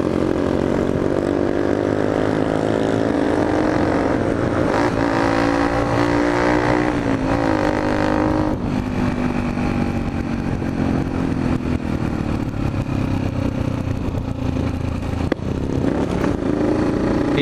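A motorcycle engine runs steadily and loudly up close, its droning pitch rising and shifting as it revs, with no voices.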